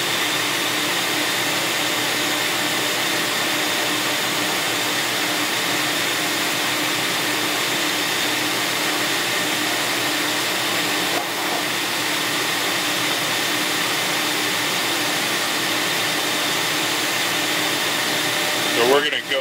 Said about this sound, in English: the machine knows exactly where to score,